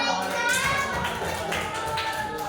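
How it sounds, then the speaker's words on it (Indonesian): A short burst of classroom applause, many small hands clapping together, with children's voices faintly mixed in underneath. "Tepuk tangan semuanya."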